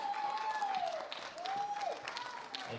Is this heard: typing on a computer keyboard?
no